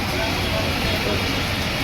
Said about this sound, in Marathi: आता पावसाचा जोर वाढलाय आहे जोरात यायले पाणी